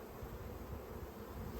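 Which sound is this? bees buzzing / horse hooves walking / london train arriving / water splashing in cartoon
bees buzzing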